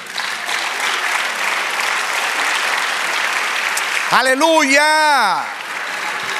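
A church congregation applauds during a sermon, with sustained loud clapping and someone shouting an exclamation over it before the clapping fades.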